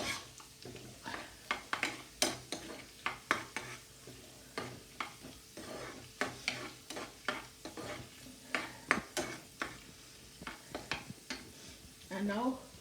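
Garlic fries in oil in a pan under a soft steady sizzle, punctuated by repeated sharp scrapes and taps of a utensil stirring against the pan in an irregular rhythm.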